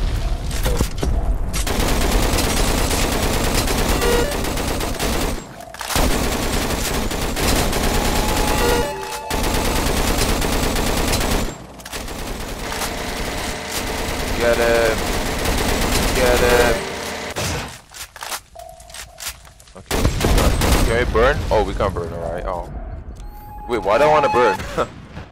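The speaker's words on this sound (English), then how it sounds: "Oh, whoa, where am I getting shot from? How did I get shot from there?" Rapid Roblox game gunfire crackles in loud bursts through much of the stretch, broken by brief pauses and mixed with game noise, while a player talks over it.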